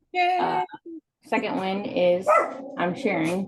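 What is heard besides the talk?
dogs barking in the background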